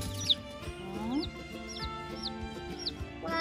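Newly hatched chicks from an egg incubator peep in repeated high, rising chirps alongside soft clucking, close and fairly quiet, with a child's and adult's voices talking in the background.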